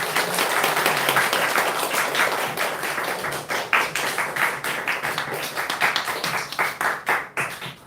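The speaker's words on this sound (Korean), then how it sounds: "우리 박수로 환영하겠습니다." A church congregation bursts into applause, a steady patter of many hands clapping together in a large room, thinning into scattered claps toward the end.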